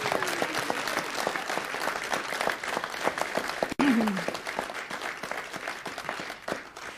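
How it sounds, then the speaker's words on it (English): Steady applause fills a city council meeting chamber as a crowd claps continuously to honor Clark High School students. A brief whistle-like tone rises midway, and there is no speech. "And now the applause."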